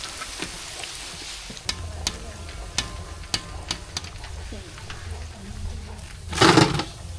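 Spicy masala vada fry in hot oil with a steady close sizzle, broken by repeated stirring clicks and a louder bubbling surge near the end.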